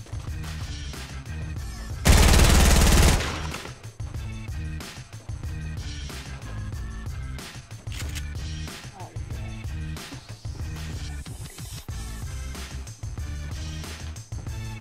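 Minigun fire in a video game: a dense, loud burst of rapid automatic shots for about a second, set against continuous busy game sound.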